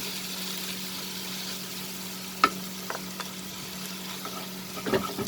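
Prawns for prawn keema sizzle steadily in a hot pan, with a constant frying hiss broken by a few sharp scrapes and clinks of stirring.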